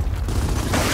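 A turret blows up in the Gears of War video game, a brief, dense booming explosion that fills the whole second without pause.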